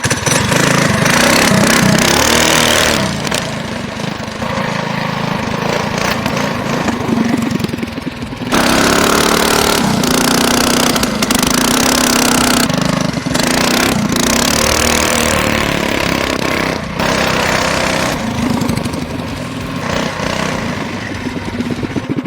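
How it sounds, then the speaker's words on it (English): A Predator Ghost mini trike's small engine runs loud and close, its buzzing note rising and falling as the throttle is worked, with a brief dip near the third second before it revs back up. "let's see exactly what kind of fun you can have on a mini trike."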